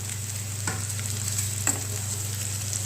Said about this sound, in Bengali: আর এদিকটায় আমি এই সয়াবিনটা কষাচ্ছি